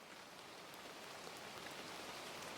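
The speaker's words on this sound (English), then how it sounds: "the rain was falling" Steady rain falls outside an empty street, a soft, even hiss of drops heard faintly at a distance with no voices.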